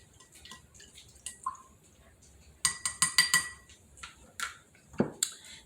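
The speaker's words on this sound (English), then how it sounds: "Now give it a good little mix again." Spoon clinking against a glass while a whiskey drink is stirred with a half teaspoon of syrup, a burst of quick metallic taps mid-clip with scattered softer clinks around it, close and fairly quiet.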